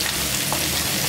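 Zucchini and sun-dried tomatoes fry in a pan, a close, steady hissing sizzle with fine crackle throughout a brief moment.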